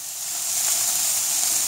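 Water poured into a hot pan of browned pork with onion, carrot and leek for stew bursts into a strong, steady steam hiss and sizzle that swells slightly over a moment.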